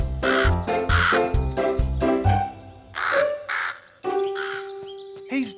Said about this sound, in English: That naughty crow!